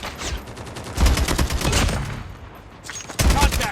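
Bursts of rapid gunfire in the video game Call of Duty, loud and dense, surging, easing off briefly, then returning strongly.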